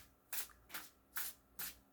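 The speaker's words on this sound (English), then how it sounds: "Basically, you shuffle the deck" Tarot cards are shuffled in four quick riffling bursts, each a short papery flutter with brief pauses between, close and quiet.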